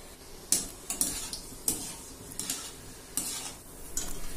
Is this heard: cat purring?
no